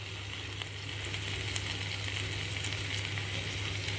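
Steady, close sizzle of potato and eggplant frying in hot oil with toasted spice masala for an aloo baingan curry, an even hiss with faint clicks and no voices.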